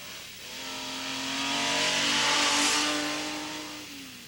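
Datsun rally car driving through a rally stage, engine note rising as it approaches and fading as it passes, a smooth swelling drive-by heard alone.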